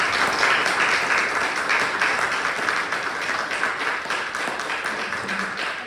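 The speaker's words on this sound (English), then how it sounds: "let's give them a round of applause" A roomful of people claps for local legislative representatives at an evening community preview event, sustained crowd applause, close and steady, with no voices over it.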